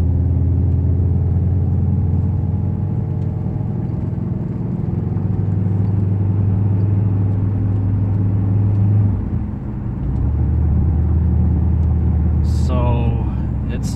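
A car with a failing transmission is held in second gear as it drives, giving a steady low engine hum and road rumble that dips briefly and then resumes, with talking over it.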